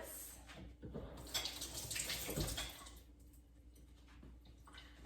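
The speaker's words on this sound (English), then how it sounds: "let's get a little rinse" Tap water runs and splashes in a kitchen sink while rinsing during a butterscotch cookie bake, a soft, steady wash of water that rises and falls over about five seconds with no talking.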